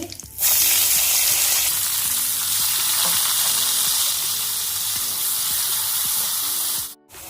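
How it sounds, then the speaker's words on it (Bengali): Chopped onion drops into hot oil for a potato and pangas fish curry and starts a loud, steady sizzle. Faint tonal hums run underneath, and the sizzle cuts off abruptly near the end. "আমি এই তেলটার ভিতরে দিয়ে নিচ্ছি পেঁয়াজ কুচি"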